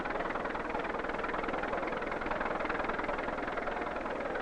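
A tractor engine drones steadily while pulling a steel sled loaded with concrete blocks at a country fair pulling contest in 1963, a continuous muffled mechanical roar at moderate distance with no speech.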